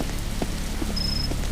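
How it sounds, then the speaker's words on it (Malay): Steady rain falling in a Roblox fishing game, a continuous close patter alone with no talk and a brief faint high tone partway through. "Apa hujan ni?"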